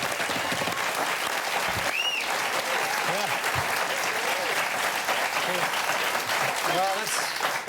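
Loud, sustained studio audience applause and cheering greets Daniel Ricciardo on an Australian TV show, a dense wall of clapping filling the whole stretch with occasional voices and whoops rising through it.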